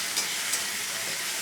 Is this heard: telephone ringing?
no